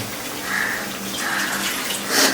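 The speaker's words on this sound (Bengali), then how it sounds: "আর একটু জল যাচ্ছে হ্যাঁ আর একটু জল দিয়ে দিই" Water is poured into a rui fish kalia curry during cooking, producing a steady close splashing pour that runs for about two seconds.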